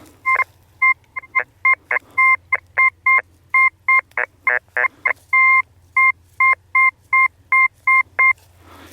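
Metal detector sweeping over junk in a farm field, giving a rapid series of short, sharp two-tone electronic beeps in irregular bursts, close and loud over a low steady hum.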